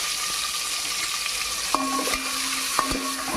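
Onion pieces and green chillies frying in oil with biryani spices for a cauliflower biryani, making a loud continuous sizzle close by, with a couple of sharp clicks of a spoon against the pan.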